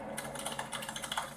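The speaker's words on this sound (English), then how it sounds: "I like the typing thing." A computer keyboard plays as a typing sound effect, a quick, even run of light clicking keystrokes, fairly quiet and steady over a second or so, with no voices.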